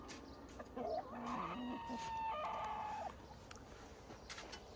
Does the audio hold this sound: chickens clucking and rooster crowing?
yes